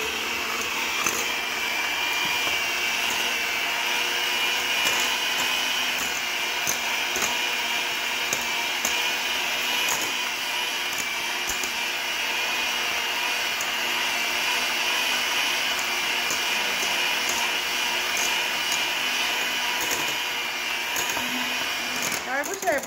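An electric mixer creams chocolate chip cookie dough with a steady, even motor whine that runs unbroken at close range, never pausing or changing pitch.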